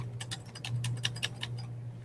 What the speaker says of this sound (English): just keep typing a bunch of Fs after that